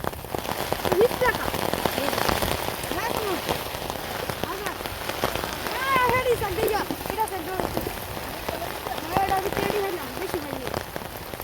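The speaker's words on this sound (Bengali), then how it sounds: "প্রচুর বৃষ্টি বাইরে, এই যে দেখেন বাইরে" Heavy rain pours down steadily with a dense, constant hiss of drops, while people talk over it now and then.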